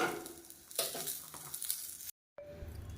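Green chillies sautéing in a pan over a medium flame for a coconut chutney, a steady close sizzle with a spatula stirring, cut off by a brief silence before a quieter sizzle resumes.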